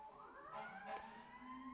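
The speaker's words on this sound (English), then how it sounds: "Here's the first fire truck of the day." A fire truck siren wails outside, distant and faint, in a steady rising tone that carries on without a break, with no one talking.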